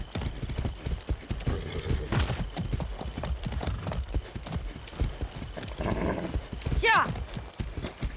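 Horse in Far Cry 6 clip-clopping with irregular hoof thuds at close range, then a high whinny near the end, with people talking over it.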